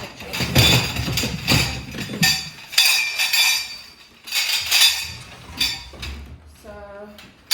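A gigantic hand-welded metal chain clinks and clatters as it is handled, with repeated close metallic jangles and scrapes in bursts, ending in a short rattling run of links.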